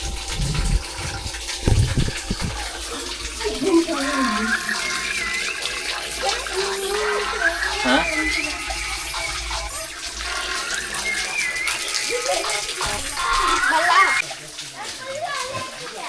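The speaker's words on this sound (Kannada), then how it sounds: "ಹಿಂಗೆ ಬರ್ತಾ ಇದೆ ನೀರು" Water rushes and splashes continuously at the Antara Gange temple spring, a loud steady flow, while children and other people talk and play nearby.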